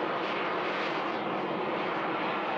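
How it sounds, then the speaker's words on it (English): Jet turbine engines spool up on a hovering aircraft at the Bournemouth Air Festival 2024: a loud, steady, broadband roar holds without a break. "Kicking the turbine engines in now."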